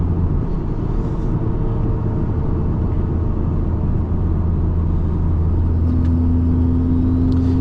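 A 2006 dually pickup with a swapped 700hp big-turbo Cummins diesel cruises along, giving a steady low drone and rumble with a faint turbo whine rising near the end, no voices over it.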